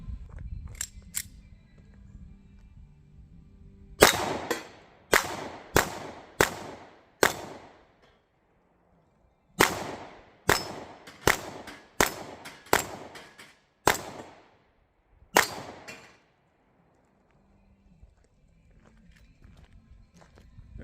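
A Smith & Wesson CSX Micro 9mm pistol firing a 12-round magazine, a dozen sharp shots in two uneven strings separated by a pause, close and loud against a quiet outdoor background.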